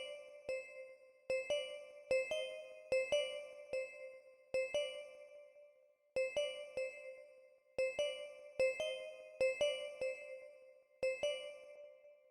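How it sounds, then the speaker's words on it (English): Pretty Bell preset from Purity taps out a looping bell pattern in a dark plugg beat, clusters of quick bright notes with varying velocity, repeating in regular groups, soft and without voices. "It's called Pretty Bell, also from Purity,"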